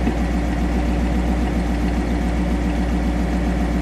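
A 1956 Ford Fairlane Sunliner convertible's engine idles with a deep, steady rumble, loud and close, an even unbroken throb with no revving.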